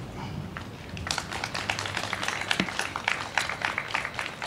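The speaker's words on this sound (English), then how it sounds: "Let us give God a hand clap." Congregation at an interfaith clergy gathering clapping hands, a burst of scattered applause starting after a second and continuing unevenly, moderately loud, with faint murmuring early on.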